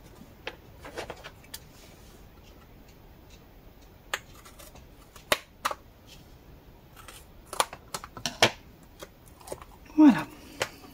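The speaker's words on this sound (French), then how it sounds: "je peux couper donc" Scissors cutting paper or card while building a handmade baby gift box, a few sparse snips spread out then a quick cluster of sharp close cuts, quiet between.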